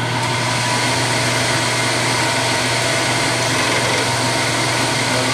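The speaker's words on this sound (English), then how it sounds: "I'm running the mill at 1300 RPM, and I found that that's giving me a much better finish." Milling machine running steadily at 1300 RPM while cutting metal, a continuous loud mechanical whir and hum with no pauses throughout.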